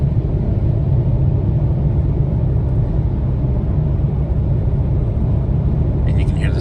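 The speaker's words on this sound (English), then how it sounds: "you can hear the sound of the car as well on this asphalt" 2023 Hyundai Kona N-Line driving on asphalt, a steady low rumble of tyre and road noise heard from inside the cabin, continuous and fairly loud.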